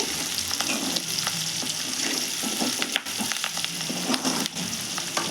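Eggs frying in hot oil for a spicy egg fry crackle and sizzle in a dense, continuous hiss, with small pops and spatters throughout.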